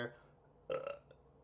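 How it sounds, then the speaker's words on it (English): A single short burp, fairly quiet and close, standing alone with no talk around it, recorded during a Heroes & Generals gaming session. "Burp."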